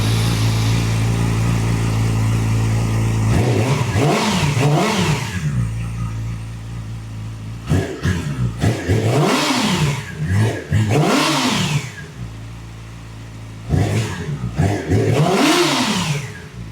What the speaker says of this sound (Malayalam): അപ്പോൾ ഇതാണ് നമുക്കിപ്പോൾ മഫ്ലർ ഊരിയിട്ടുള്ള സൗണ്ട്.